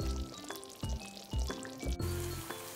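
Sliced onion sizzles and crackles in hot oil for a tempering, with a few soft clatters and stirring sounds over a steady frying hiss.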